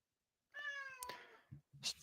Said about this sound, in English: Stop meowing.